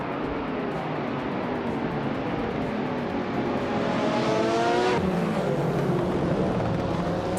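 Several race cars pull away together at the start of a race at Hidden Valley Raceway, including a 1999 Ford Mustang SVT, their engines droning and rising in pitch as they accelerate, a steady loud wash of motor noise with one car sweeping past.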